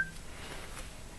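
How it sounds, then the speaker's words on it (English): Telephone touch-tone dialing beeps sound briefly and clearly at the start, then fade into a quiet room, heard during a Stampin' Up! Little Cuties card-making session. "Sorry about the phone."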